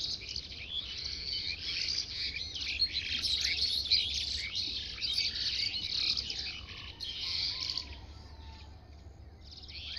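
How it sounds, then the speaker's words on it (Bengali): A dense, continuous chorus of birds chirping on a foggy winter morning by a village pond fills the air without letup, over a soft, steady low hum. "এখন পাখির কিচির মিচির শব্দে"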